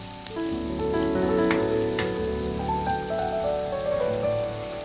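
Two large onions sauté until browning in a pan for fish curry, giving a continuous close crackling sizzle like rain on a surface, with no talking.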